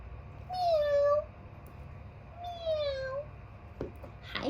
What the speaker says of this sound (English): Oh, it's a cat. The cat says, meow,